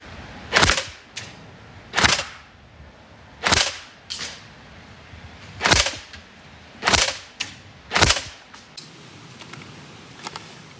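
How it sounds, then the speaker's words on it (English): An airsoft pistol fires point blank at Revision ShadowStrike ballistic safety glasses, giving about seven loud, sharp cracks spaced unevenly with quiet gaps between them. "I'm just going to put some point blank shots in at the glasses and see what impact it has."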